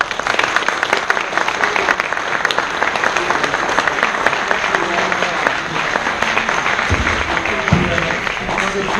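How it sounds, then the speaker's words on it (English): Audience at a San Diego Comic-Con panel on early DC Comics applauding, a loud sustained burst of clapping from a packed room with a few low thumps near the end. "please give them all a round of applause"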